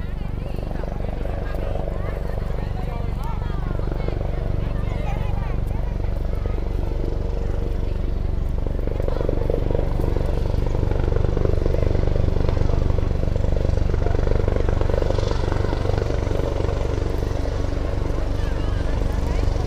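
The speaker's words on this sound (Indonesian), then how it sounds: "helikopter yang cukup besar ini, yaitu Super Puma" A large Super Puma helicopter's rotor and engine drone steadily and loudly throughout, with a low rhythmic thumping and people talking over it, parked in a rural village.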